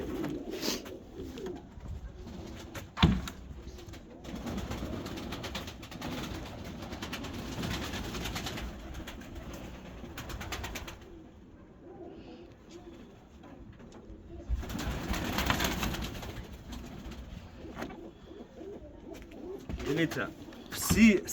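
Pigeons and doves coo in a loft or coop, soft repeated rolling calls heard fairly close throughout, with someone talking over them at times and occasional bumps and rustles.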